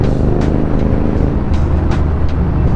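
Steady low road traffic rumble heard from a motorcycle ride in India, a continuous broadband drone with a few passing vehicle swells and no talk.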